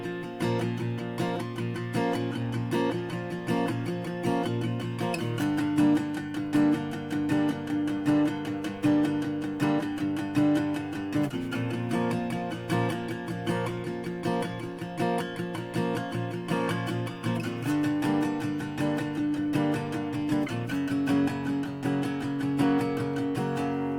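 Guitar steadily strummed through the first verse of a song, with even, continuous chord rhythm and sustained ringing notes at a moderate, consistent level.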